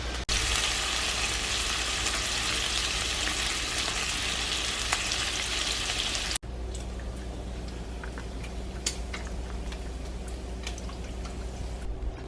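Bacon and an egg fry in a pan with a continuous crackling sizzle. Midway the sound cuts abruptly to a quieter, sparser spatter with scattered pops. Close and unbroken by speech.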